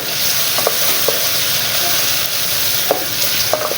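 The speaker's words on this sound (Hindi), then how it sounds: "अब मैं इसको फिर भून लूँ" Tomatoes frying in a pan while being stirred, a loud, continuous sizzle with occasional light scrapes and taps of the spoon.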